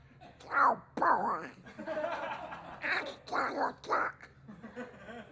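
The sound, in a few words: man imitating Donald Duck's voice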